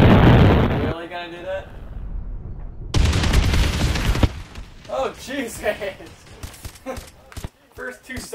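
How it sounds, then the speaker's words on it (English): Explosions from the shooter game Advanced Warfare burst loudly in two heavy rumbling blasts, then give way to people talking over quieter game sounds. "The first 2 seconds of that kill cam was just explosions everywhere."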